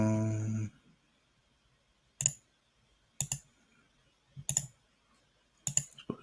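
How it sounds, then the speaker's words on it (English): Short bursts of clicking on a computer keyboard, four separate clusters of keystrokes with pauses between them, close and otherwise quiet, following a brief opening tone. "I'm just typing something up."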